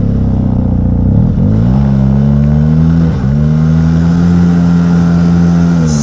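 Snowmobile engine revving hard as the sled spins on a steep, rutted mountain climb, a loud, close, sustained drone that rises and dips with throttle changes.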